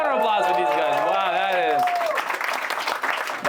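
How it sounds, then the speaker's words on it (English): A comedy show audience breaks into applause and cheering for a couple after someone speaks loudly over the start; dense clapping carries on for the rest of the moment. "round of applause for these guys"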